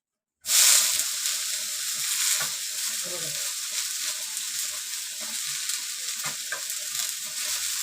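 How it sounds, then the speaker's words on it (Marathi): Mint leaves hit a hot pan for chutney and burst into a sudden loud sizzle. The sizzle then settles into steady frying, broken by light stirring scrapes, close by. "आता मी हा पुदिना घालते"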